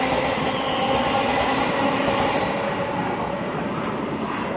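A Thameslink Class 700 train departs Stevenage on the East Coast Main Line, a loud, steady, close rumbling roar of wheels and motors that fills the whole moment without a break.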